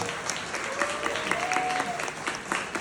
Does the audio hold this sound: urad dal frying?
no